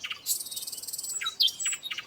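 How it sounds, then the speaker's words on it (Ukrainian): A nightingale sings a series of bright, high chirps and quick whistled trills in spring, clear and fairly close, with faint insect-like chirring behind and no voices. "І починає соловейко виспівувати гімн весні."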